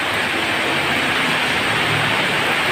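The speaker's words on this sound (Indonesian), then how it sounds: "karena hujan semakin deras" Heavy rain pours down in a steady, dense hiss, a loud and unbroken wash of noise with no voices over it.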